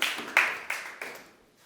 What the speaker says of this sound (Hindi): तो रिमशा के लिए तालियां